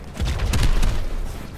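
Gunfire from a sniper in a King's Row match of a team shooter game, a dense burst of sharp shots and booms packed closely together over about a second and a half, loud and close.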